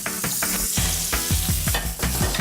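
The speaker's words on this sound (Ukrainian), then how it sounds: "Масло розтоплюється і туди одразу ми з вами закидаємо цибулю." Butter melts and sizzles loudly in a frying pan up close, a steady hiss broken by rhythmic scraping strokes of stirring, with no voices.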